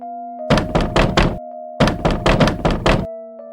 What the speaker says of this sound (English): The person is still knocking on the door.